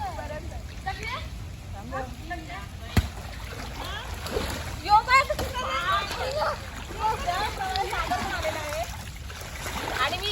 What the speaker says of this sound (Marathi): ती अशी उडी टाकणार योगिनी